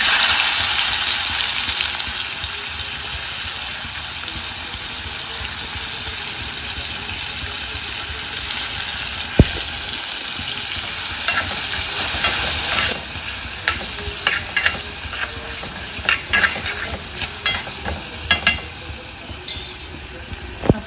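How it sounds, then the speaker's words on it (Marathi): Onion fries in a hot pan with a continuous loud sizzle. Scrapes and clinks of a spoon stirring it come more often toward the end, and no one speaks. "त्याच्यामध्ये आपण कांदा घालू."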